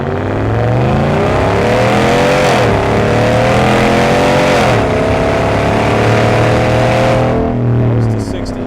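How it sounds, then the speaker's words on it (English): A Ram pickup's Hemi V8 exhaust roars loud and close under hard acceleration, its pitch climbing steadily through the gears with brief dips at each shift, with a little talk over the top. "So far, first impressions, the exhaust sounds good"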